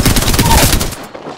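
A short, loud burst of enemy rifle fire rattles close by during an Apex Legends match, then cuts off abruptly.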